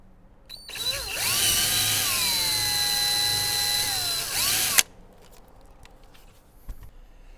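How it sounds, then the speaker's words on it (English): Power drill with a slightly larger bit boring a screw hole for a Fisker Ocean One cargo net clip, one steady whining run of about four seconds with a brief spin-up and an abrupt stop, then quiet. "So now I can use the drill with a slightly larger bit that fits the screw and then go into the hole that I just made."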